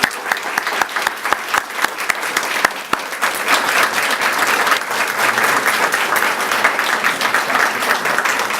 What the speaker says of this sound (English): let's give a round of applause to Beaver Manufacturing